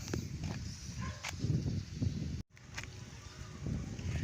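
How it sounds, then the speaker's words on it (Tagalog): Strong wind buffets the microphone in steady low rumbling gusts while flying a small kite, broken by a brief dropout midway. "malakas yung hangin"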